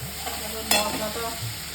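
Ground turmeric, hot chili powder, Kashmiri chili powder and a little sugar fry in oil with a steady, soft sizzle, while a spoon stirs and scrapes the pan, including one sharp scrape midway.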